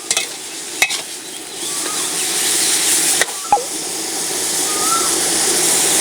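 Dry sukiyaki stir-fried in a pan with fish sauce and sugar gives a continuous sizzle and hiss, broken by a few sharp scrapes of a spatula against the pan.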